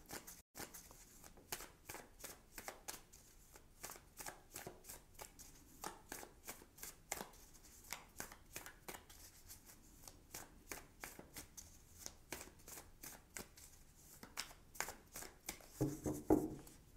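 Oracle cards being shuffled for a tarot-style reading, giving a quiet, rapid run of crisp riffling flicks in a steady rhythm, close and alone.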